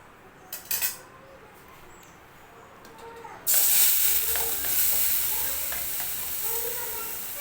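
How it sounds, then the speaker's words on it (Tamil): Grated carrot hits hot ghee in a pan and bursts into a loud, steady sizzle and hiss that continues without pause, after a few light utensil clinks. "நெய்யில் துருவி வச்சுருக்க கேரட்டை சேர்த்துடலாம்."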